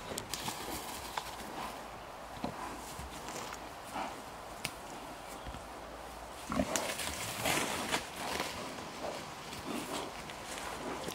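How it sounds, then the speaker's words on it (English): Pasture-raised pigs grunt and snuffle outdoors amid rustling and shuffling hoof steps, a busy, low, continuous commotion at close range. "Pasture-raised pigs are just so happy, and they're just so much fun to watch."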